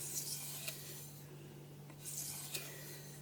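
A steel blade is stroked across a leather strop loaded with turmeric paste, giving quiet, soft rasping strokes over a steady low hum.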